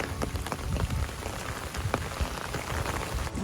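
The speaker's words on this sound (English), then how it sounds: "It is raining harder." Hard rain pours steadily on a hiker's gear along the Appalachian Trail, a dense, continuous patter of drops close by with no voices.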